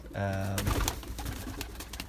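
Racing pigeons in a loft give a soft throaty coo, briefly audible at the start before rustling and clattering noises take over, fairly close with no talking.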